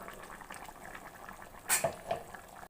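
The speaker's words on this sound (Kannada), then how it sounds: "ರುಬ್ಕೊಂಡಿರೋವಂಥ ಮಸಾಲೆ ಹಾಕೋತಾ ಇದ್ದೀನಿ" A pot of goat head and trotters curry bubbles softly at a boil, then a couple of sharp wet splashes and a clink sound as ground masala is added.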